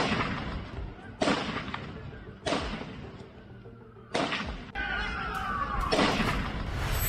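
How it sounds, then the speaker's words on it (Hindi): Gunfire during a terror attack at Bondi Beach in Sydney, roughly five shots in five seconds, each a sharp broadband burst followed by a ringing echo, loud and slightly distant, with faint voices in the background. "5 सेकंड में 5 राउंड फायरिंग करता दिख रहा है।"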